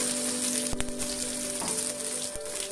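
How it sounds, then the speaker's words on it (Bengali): Whole spices — a black cardamom, two bay leaves, a dried red chilli and whole garam masala — fry in hot oil for a paneer curry, giving a steady close sizzle with a few sharp pops and crackles and no talking. "একটা বড় এলাচ, 2টা তেজপাতা, একটা শুকনো লঙ্কা আর সামান্য গোটা গরম মশলা। এগুলোকে হালকা এর মধ্যে ভেজে নেব।"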